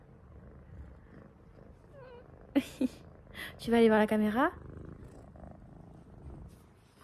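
A pet cat purrs close by while someone talks to it in a quiet room, with a short burst of voiced sound in the middle.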